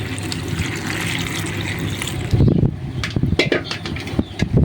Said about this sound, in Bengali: চুলায় বসিয়ে দেবো একটু পানি দিয়ে